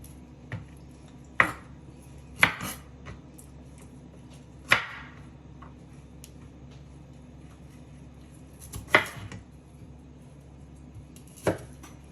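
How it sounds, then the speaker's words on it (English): A knife chops vegetables into slightly larger pieces for roasting, sounding as a handful of sharp, separate cuts on a board. They come at irregular intervals, close and fairly quiet, with no talk. "Just cut these slightly larger pieces"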